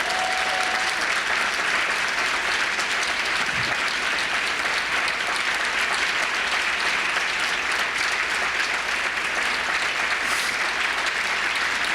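Audience applause in a lecture hall at a talk, a dense steady wash of many hands clapping that holds loud and unbroken throughout, with no voices over it.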